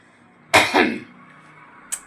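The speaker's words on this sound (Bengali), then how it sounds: "সেই কারণে আমার কাশি এসে গেল" A single short, forceful cough with a quick second burst, close and sharp against near silence, followed by a faint tiny click.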